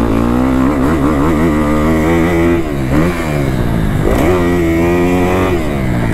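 Dirt bike engine revving hard on a motocross track, its pitch rising and dropping through a downshift mid-jump, loud and close throughout with no talk.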